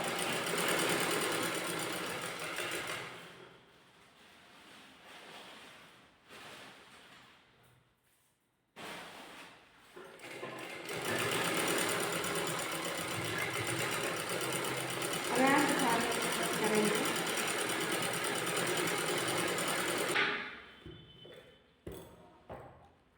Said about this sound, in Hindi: उसी आकार में हम इसको स्टिच भी करेंगे।